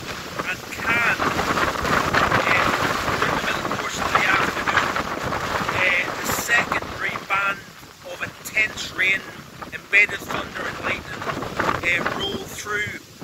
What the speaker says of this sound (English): it is a very windy night